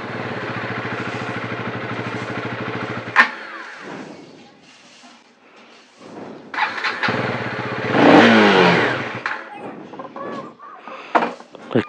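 A motorcycle engine runs with a low, steady, harmonic idle for about three seconds and then cuts off abruptly, before an evening ride. Talking and rustling follow.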